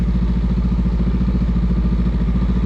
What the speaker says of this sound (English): I'm not holding the clutch anymore, and the bike goes